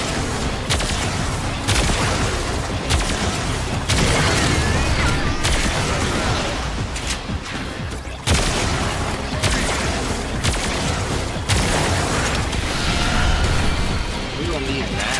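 Loud, dense gunfire with explosive bursts from weapons in the sci-fi shooter Warframe during a Christmas Archon Hunt and Steel Path mission, sustained almost without pause, with players talking over it.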